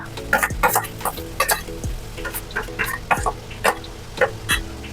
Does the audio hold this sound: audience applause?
no